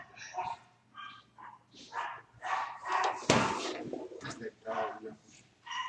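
A dog barks and yips in repeated short bursts, with one louder thud partway through as it jumps against a door, while people talk over it.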